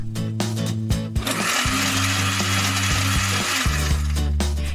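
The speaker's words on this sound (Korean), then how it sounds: "물에 1시간 정도 불린 파바빈을 우유와 함께 믹서기에 넣고 잘 갈아줍니다" A blender grinds soaked fava beans with milk loudly and steadily, its motor whine holding a constant pitch with a few brief stops and restarts.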